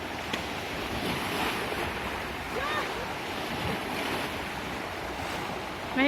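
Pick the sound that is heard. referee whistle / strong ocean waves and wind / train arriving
strong ocean waves and wind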